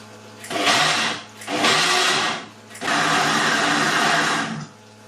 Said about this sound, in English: we'll pop our lid back on. This should be very interesting. And then we're just going to give it a bit of a pulse.